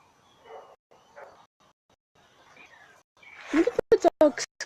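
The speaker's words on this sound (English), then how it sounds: "Look at the dogs go." Dogs bark in short sharp bursts at a bird of prey center, a quick series of loud barks near the end after faint, scattered sounds.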